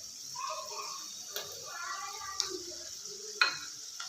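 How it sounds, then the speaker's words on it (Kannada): Bengal gram frying in oil gently sizzles as red chili powder is stirred in, with soft scraping and a few sharp ticks of a spoon against the pan. "ಇವಾಗ ಚೆನ್ನಾಗಿ ಮಿಕ್ಸ್ ಮಾಡ್ಕೊಳ್ಳೋಣ"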